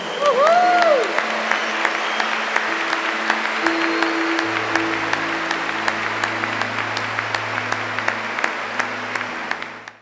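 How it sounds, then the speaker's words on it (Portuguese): A church congregation claps together in sustained, dense applause that holds steady for several seconds and then stops abruptly, with a sung tone and soft organ notes underneath. "Uma salva de palmas ao nosso Deus."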